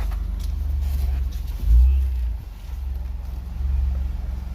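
A car at a gas station reversing, heard as a steady low engine rumble that swells briefly, with wind buffeting the microphone throughout.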